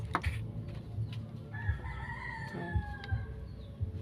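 A rooster crows once in a long drawn-out call, moderately near, with scattered clucks and low background noise around it.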